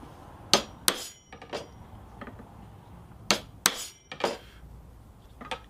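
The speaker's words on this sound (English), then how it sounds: "So I'll give it a little whack here." Hammer strikes countersinking a rivet on a machete being reshaped: several sharp metallic taps in uneven pairs with ringing decay, close and fairly quiet, with no talking.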